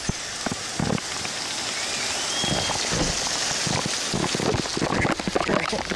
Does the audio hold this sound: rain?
yes